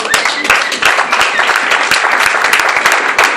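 A church congregation applauds in a dense, steady burst of clapping that holds for the whole span, close and fairly loud.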